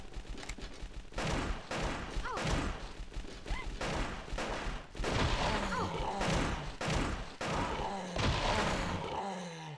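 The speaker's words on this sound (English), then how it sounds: "So the best thing is to just shoot them." Repeated gunshots ring out in Silent Hill 4, sharp bursts spaced irregularly across the stretch, loud and close, with thuds and a groaning creature between shots.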